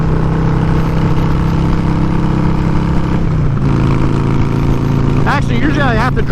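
A 2004 Harley-Davidson Dyna FXDI Super Glide climbing a grade in fifth gear, its engine droning steadily and loudly with a slight drop in pitch midway as it works uphill, wind rushing over it and a voice talking briefly near the end.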